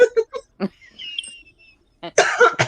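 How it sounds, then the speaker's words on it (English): A few short, sharp coughs up close, with scattered brief vocal sounds around them. "I'm sorry, I was coughing."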